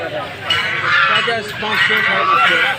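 Domestic geese honk a few times amid the steady murmur of a busy market crowd, with voices chattering throughout.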